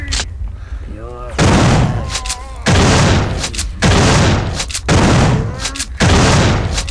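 Repeated loud, booming grenade explosions from the video game System Shock 2 erupt in four heavy bursts, each followed by a rumbling decay, after a brief quieter stretch with electronic tones.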